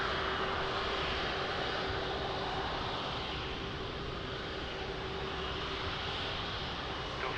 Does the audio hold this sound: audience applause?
no